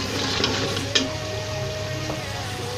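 Achaar gosht masala frying in ghee gives a steady, close sizzle with occasional stirring scrapes and one sharp clink of a spoon against the pot, with no talking.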